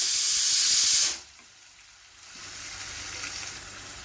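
Onion sautés in a pan, starting with a loud bright hiss that suddenly drops to near quiet, then a softer, steady sizzle returns and continues.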